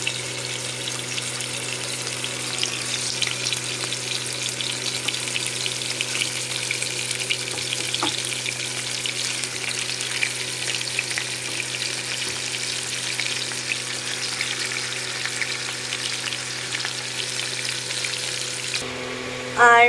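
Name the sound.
chicken pieces frying in hot oil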